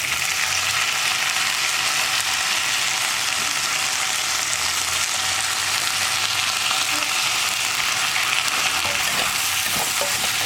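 Capsicum and precooked mixed vegetables fry in a pan for a South Indian stir-fry, giving a dense, continuous sizzle that stays loud and even throughout, with a few faint stirring clicks toward the end.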